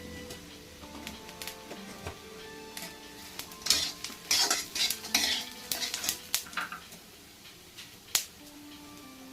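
Shahi jeera cumin seeds fry in a pan for a village-style chicken masala, crackling softly under clinks and scrapes of a spoon stirring against metal, close up and irregular, with nobody talking.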